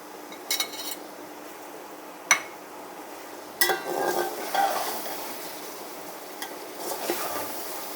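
Tomatoes with garlic and ginger fry quietly in a pan, a soft sizzle under scattered clinks and scrapes of a spoon stirring against the pot.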